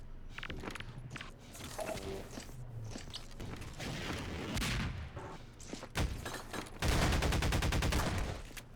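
Half-Life 2 Deathmatch gunfight with shotgun blasts and rapid gunfire in dense, repeated bursts, closely spaced and loud, building to a sustained clattering volley at the end.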